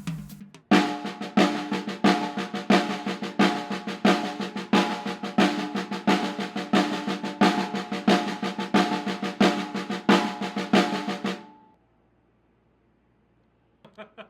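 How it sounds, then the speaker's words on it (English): A drum plays a paradiddle rudiment, a steady sticking pattern of quick, even strokes with regular accents, close and loud, for about eleven seconds before stopping abruptly. "listen to the paradiddle"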